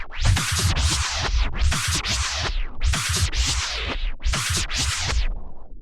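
A beat plays from a record, with repeated swishing bursts in a steady rhythm over thumping low hits.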